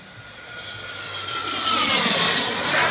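A model jet's turbine engine screams at high RPM during a flying demo, the whine climbing and growing louder as the aircraft approaches, then holding near and intense with no voices.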